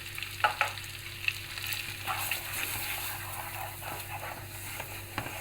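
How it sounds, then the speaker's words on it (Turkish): Semolina roasting in oil in a pan for Turkish semolina helva, with a steady soft sizzle under repeated close scraping and stirring strokes of a spoon against the pan. "Şimdi irmiğimiz güzel renk değiştirip hafif kokusu gelene kadar kavuracağız."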